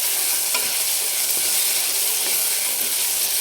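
Ginger-garlic paste and coriander-green chilli paste sautéing in a hot pan for a dry mutton dish, a loud, even frying hiss sustained throughout with faint stirring scrapes underneath.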